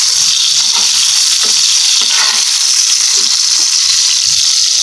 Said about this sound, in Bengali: এখন টমেটোটাকে উল্টে পাল্টে ভালো করে একটু ভেজে নিচ্ছি।